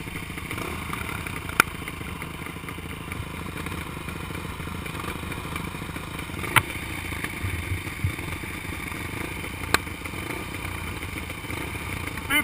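Steady motorcycle engine running at about 5,540 feet altitude, with a continuous mid-pitched drone and three sharp pops standing out at intervals.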